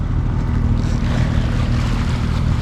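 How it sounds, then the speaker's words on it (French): A sailboat's engine drones steadily with the sails up and no wind, a loud continuous low rumble mixed with wind and water wash, no voices. "on n'a pas coupé le moteur depuis le départ"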